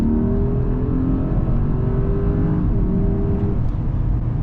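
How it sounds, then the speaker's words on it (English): A 2022 Mercedes GLE 580 V8 accelerating hard in third gear in Sport Plus, its engine a loud, continuous rising roar with a steady drone that climbs in pitch, heard alone without talk. "So I will just downshift. to third gear and let's go."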